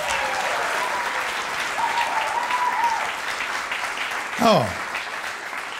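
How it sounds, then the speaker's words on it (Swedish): Audience at a music performance applauding steadily throughout; a whistle rises near the end and a voice speaks briefly over the clapping. "Ge dem en applåd till."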